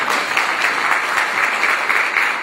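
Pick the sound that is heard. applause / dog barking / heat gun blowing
applause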